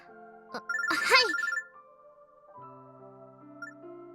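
A phone droid rings in the visual novel game Robotics;Notes Elite, a clear electronic ringtone trill of about a second following a short click, then soft sustained background music tones.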